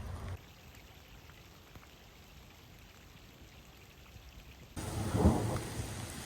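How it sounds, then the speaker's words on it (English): Steady soft patter of rain falling on a small pond in an Arizona forest, with a brief louder, closer burst of splashing and rumble near the end. "And the raindrops are falling on the water."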